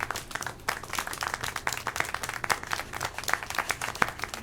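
Scattered clapping rings out in the adventure game Syberia: The World Before, a sustained patter of many hands applauding at an irregular pace.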